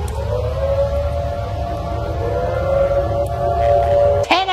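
Jamaica's emergency alert system alarm, a loud, eerie, wavering tone that slowly slides in pitch over a low rumble, sustained steadily before an abrupt cut at the end.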